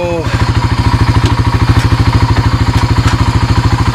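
The engine of a 1998 Honda TRX300 4x4 ATV chugs loudly and close in a fast, even rhythmic putter, with a brief clatter right at the start.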